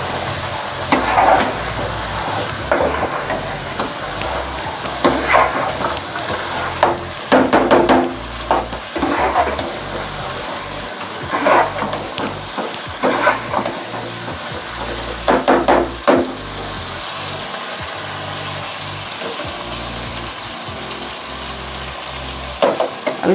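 Chicken curry frying in a pan: a steady sizzle throughout, broken by repeated clatters and scrapes of a spoon stirring against the metal in uneven bursts, with no talking.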